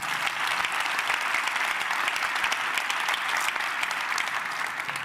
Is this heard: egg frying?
no